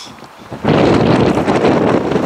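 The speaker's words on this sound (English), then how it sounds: "Now you can really start seeing the wind picking up, and you can see the dust flying." Strong wind gusts in Moab, Utah, blowing dust, roar suddenly into a loud, continuous rushing buffet against the microphone after a quieter start.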